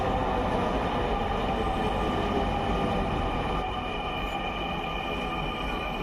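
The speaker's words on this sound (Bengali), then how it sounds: "এই যে মেট্রো চলে এসেছে দেখতে পাচ্ছেন" A metro train arrives at a station with a continuous loud rumble of wheels and carriages that stays steady and eases slightly toward the end, with no voices heard.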